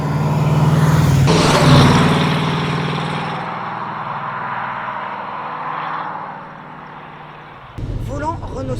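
A Chevrolet Camaro SS engine rumbles loudly while driving, a strong low drone that eases and settles into a steady cruise, with people talking inside the car.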